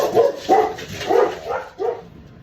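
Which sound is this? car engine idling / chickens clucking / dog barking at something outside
dog barking at something outside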